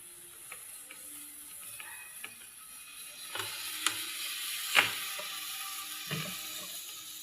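Cream dory fish fillets coated in egg fry quietly in a pan, a faint steady sizzle with scattered small pops and clicks of the pan and utensils throughout.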